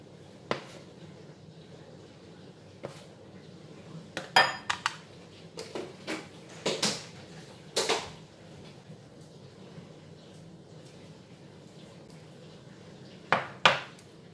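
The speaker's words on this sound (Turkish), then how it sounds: "Nişasta suyun içinde eriyene kadar karıştırıyoruz" A spoon stirring starch into water in a bowl, with scattered light clinks and taps of metal against the dish between quiet stretches, heard close and alone.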